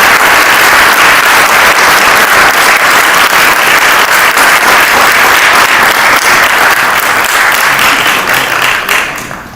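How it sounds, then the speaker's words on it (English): A large audience at a spiritual book launch event applauds musicians after a performance, with dense, loud, sustained clapping that continues for nearly ten seconds before starting to fade. "Let's have a huge round of applause again for all of our fantastic musicians."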